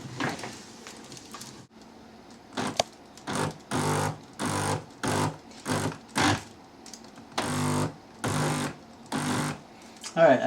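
An electric drill motor milling grain, running in repeated short bursts of whirring grind separated by pauses, loud and close, with a voice speaking between bursts.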